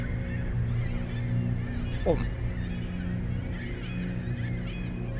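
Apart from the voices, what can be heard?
birds cawing in horror video game The Lightkeeper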